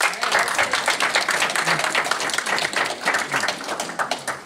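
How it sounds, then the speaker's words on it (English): Audience applause after a youth soccer program announcement at a town gathering, steady dense clapping from a crowd lasting several seconds, fairly close and even without a clear end. "Can we give them a round of applause?"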